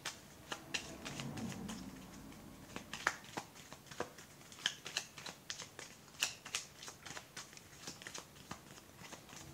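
Playing cards being shuffled and riffled in a quiet room, a steady run of crisp, papery flicks and snaps, fairly close and alone, with no voice over them.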